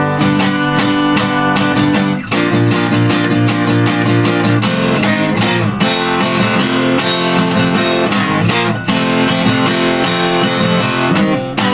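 Acoustic guitar playing the closing eight bars of a song, a loud, driving, steadily strummed rhythm with accented chord hits, continuous and alone without any talking.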